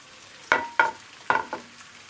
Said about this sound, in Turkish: köftelerim hemen kızardı gördüğünüz gibi 2-3 dakikada